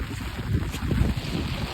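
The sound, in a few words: strong wind outdoors by a flooded village pond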